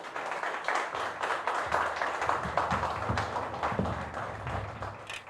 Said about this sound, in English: deserves a tremendous round of applause